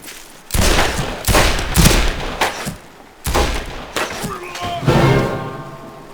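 Gunfire from Fistful of Frags, a Half-Life 2 mod game: a string of loud, sharp shots in uneven bursts with heavy thumps, some ringing tails near the end.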